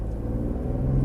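A 2014 BMW 435i xDrive engine holds a deep, steady rumble while held on the brake for a launch, a loud close-up drone that swells slightly near the end, with no talk.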